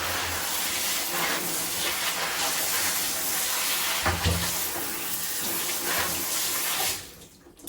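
Tap water pours steadily in a continuous rushing hiss while houseplants are watered indoors, ending abruptly as the flow is shut off near the end.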